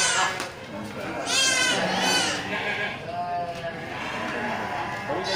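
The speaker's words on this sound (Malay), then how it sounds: "Mantan ini kan kambing liar, kambing batu atau kambing hutan ya." Wild mountain goat bleating in bursts amid a noisy livestock market in Geurugok, with crowd chatter and people talking throughout.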